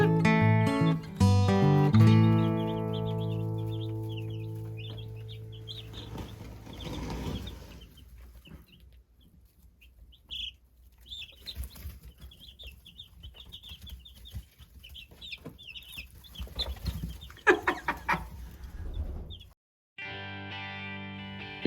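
Day-old chicks under a heat lamp, many high soft peeping chirps scattered through the clip, with some louder fluttering and rustling noise near the start and end.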